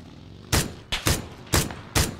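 Four sharp gunshots ring out in PUBG, spaced roughly half a second apart, each a loud broadband crack with a short decay, with no talk over them.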